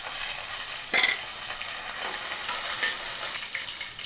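Garlic, onion, curry leaves and green chillies frying in hot oil for a South Indian dhal curry, giving a steady close sizzle with occasional stirring scrapes and a spoon clink.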